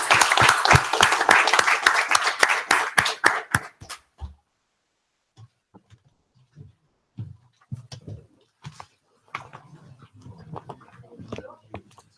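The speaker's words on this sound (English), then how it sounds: "Just join me in a big round of applause for our fantastic presenters" Audience applause after presentations at an evening event on climate adaptation for farmers, a dense burst of clapping lasting about four seconds before cutting off, followed by scattered faint sounds and quiet talk.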